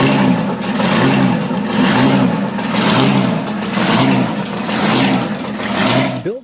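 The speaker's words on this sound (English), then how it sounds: "When it came to brute force and unmistakable sound, few engines left a bigger mark than the Detroit Diesel" A Detroit Diesel 12V71 engine runs loud and steady, with a deep rhythmic throb that swells and eases in repeating waves, then cuts off abruptly at the end.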